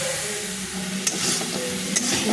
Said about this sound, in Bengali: ওই তেলে কালো জিরে শুকনো লঙ্কা ফোড়ন দিয়ে পেঁয়াজটাকে ভেজে নিচ্ছি